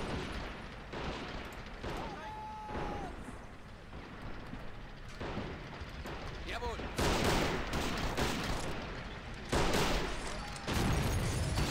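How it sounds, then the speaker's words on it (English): A light anti-tank gun fires in a Men of War: Assault Squad 2 battle, sharp booming shots punctuating a dense backdrop of gunfire and explosions, with bursts louder toward the end. "Light AT gun."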